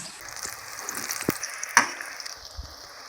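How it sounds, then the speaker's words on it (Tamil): Cauliflower pieces for Gobi 65 frying in hot oil, a soft continuous sizzle and bubbling with occasional stirring and clinking of a utensil, fairly quiet and close. "எண்ணெய் காஞ்சிருச்சு, காலிஃப்ளவர் ஃப்ரை பண்ணிக்கலாம்."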